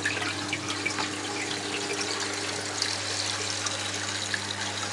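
Water overflowing through the baffles of an aquarium sump into the catchment area of a six-foot tank, a steady soft trickle and splash over a constant low pump hum, continuous and fairly quiet.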